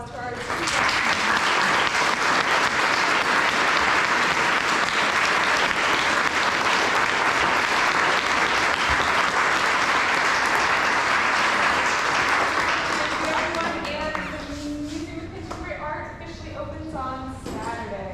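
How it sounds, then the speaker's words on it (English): An audience at an architecture conversation event breaks into loud, dense applause that holds strong for about twelve seconds, then fades out as a voice begins speaking. "So please, if we can give a round of applause."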